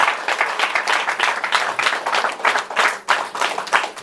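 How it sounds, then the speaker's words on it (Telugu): A church congregation at a Sunday sermon applauds for Lord Jesus Christ, loud dense clapping from many hands that keeps going in uneven waves throughout. "Give a big claps to lord Jesus Christ."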